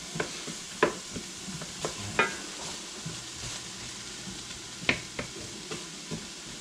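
Onions soften in a pan with a quiet, low sizzle, broken by scattered clacks and scrapes of stirring at an uneven pace.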